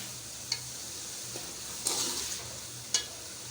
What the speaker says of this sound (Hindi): मसाले की अच्छी तरह भुनाई करनी है ताकि मसाला अच्छी तरह मिक्स हो जाए